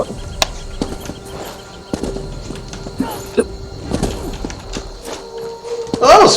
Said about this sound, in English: This is a Skyrim horse.